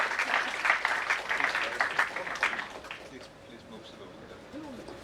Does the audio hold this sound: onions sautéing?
no